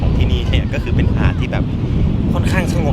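Beach ambience at Zen Beach on Koh Phangan, dominated by loud, steady wind buffeting the microphone with faint surf beneath, while someone talks throughout.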